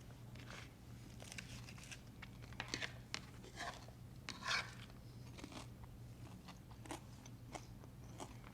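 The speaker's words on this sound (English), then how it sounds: "the tostada's got a crunch" Someone bites into a crunchy keto chaffle tostada made with cheddar cheese, giving close, quiet, scattered crunches and chewing, with one sharper crunch midway.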